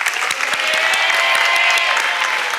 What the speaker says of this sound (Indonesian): tapi tepuk tangan dong untuk Zara.